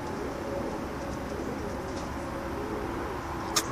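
Pigeons coo softly under a steady background hum, with a brief sharp click near the end and no talking.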